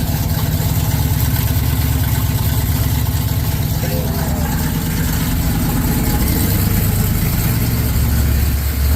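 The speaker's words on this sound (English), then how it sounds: "Want to give you a sound of the exhaust." Exhaust of a 1968 Chevrolet Nova with performance upgrades idling steadily, a loud, close, continuous low rumble with a slightly uneven throb and a faint rise in revs near the end.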